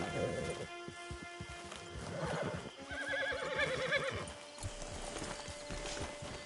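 A horse whinnies loudly and clearly, then hooves clop near a camp in a western video game, with light rain-like patter in the background.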